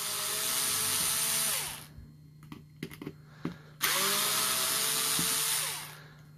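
A power driver whirs in two sustained bursts while unscrewing part of a Craftsman mechanical water meter, with a gap of small clicks and taps between the runs; close and loud.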